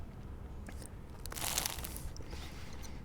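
A crunchy, buttery croissant is bitten into close up, giving a short cluster of crisp crackling crunches around the middle against a quiet background.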